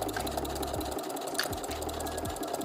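A sewing machine topstitching close to the edge of a bucket hat brim runs in a fast, steady mechanical patter, close and continuous with slight pauses, no voices.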